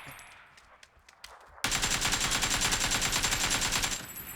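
Automatic gunfire in PUBG: after a few faint clicks, a loud, sustained rapid-fire burst erupts and runs unbroken for about two and a half seconds before cutting off.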